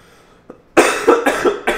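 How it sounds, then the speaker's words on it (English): Several loud, harsh coughs in quick succession from one person close by, following a faint short throat sound and a moment of near silence. "Sorry about the coughing, guys."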